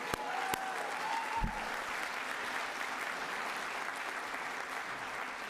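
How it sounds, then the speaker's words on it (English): Applause from a university fall convocation audience for a graduating student, a broad steady wash of many hands clapping at a distance, even and sustained, with a couple of sharp knocks near the start. "so a hand of applause"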